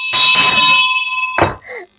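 A bell sound effect rings out loud and bright, struck twice in quick succession and then once more, with a sustained ringing tone lingering between the strikes before fading.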